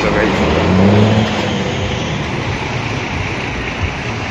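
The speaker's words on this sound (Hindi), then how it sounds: "एक साइड की गाड़ियाँ चल रही हैं जो ऊपर से आ रही हैं" Vehicles roll past in a jam on NH 44 near Ramban, a broad continuous road rumble with a brief louder engine swell early on, and voices can be heard talking over it.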